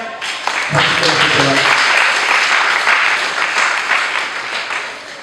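A church congregation applauds and cheers during a French-language sermon, a dense wash of clapping and raised voices that swells and holds, then slowly thins out.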